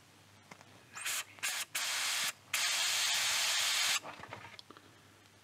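Bursts of very low-pressure compressed air, 1 or 2 PSI, hissing close by while restoring a 1938 Healing 448E radio, several short puffs and then one long steady blast that cuts off abruptly, with no talking.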